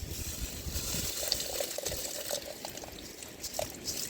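Water is poured into a large cooking pot of greens, a steady splashing trickle with faint clinks in an outdoor cooking setting near the Jazan sea in Saudi Arabia.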